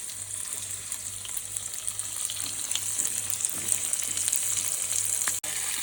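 Grouse searing in a hot pan, a steady close sizzle and crackle of hot fat that holds evenly throughout, with no voices.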